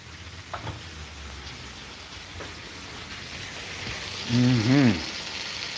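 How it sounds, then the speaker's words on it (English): Steak sizzling on top of melting butter in a pan, a soft, steady frying hiss held low under the background throughout, with a brief louder voiced sound near the end. "I'm supposed to put the meat on top of the butter, like that. And then it's supposed to melt."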